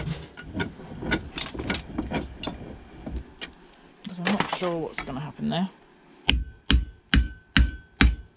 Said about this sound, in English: Let's try out the new vise.